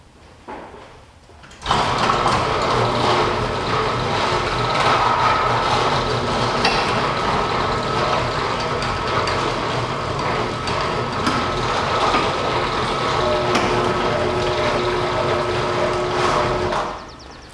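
A riding mower engine cranks briefly and catches, then runs at a steady, loud mechanical drone with a constant whine that holds evenly until it cuts off near the end.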